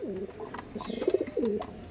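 Giribaj pigeons coo in a loft, a close run of soft, rolling coos that rise and fall in quick succession with no voices.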